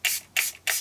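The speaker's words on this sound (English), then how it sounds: "So I'll spray it an angle in." Spray paint sprayed at an angle in short bursts for a mixed media artwork, three close hissing blasts each about a fifth of a second long, separated by brief pauses.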